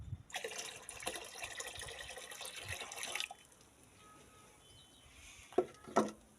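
Liquid fertilizer is poured while being measured out for a garden, giving a steady trickling rush for about three seconds, then quiet with a couple of small splashes or taps near the end.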